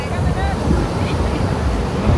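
Ocean waves break at Huntington Beach during a surf contest, a loud, continuous rush of surf and churning water mixed with heavy wind noise on the microphone, heard close and steady throughout.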